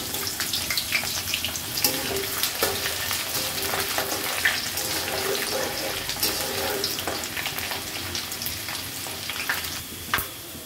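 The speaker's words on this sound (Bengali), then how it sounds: "একটু ভেজে নেব কিছুক্ষণ।" Crushed garlic fries in a pan with extra oil added, a dense continuous sizzle broken by irregular crackles and spatters, with occasional scraping stirs and clinks close by.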